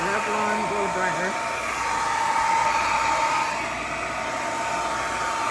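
A standard Revlon blow dryer fitted with a diffuser drying freshly bathed puppies, a loud steady whooshing drone of airflow and motor held close throughout, with a faint voice briefly audible early on.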